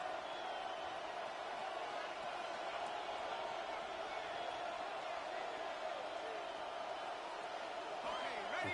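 A steady roar from a stadium crowd fills an American football video game as the New Orleans Saints push deep in the red zone. The noise is dense and continuous, with occasional louder swells.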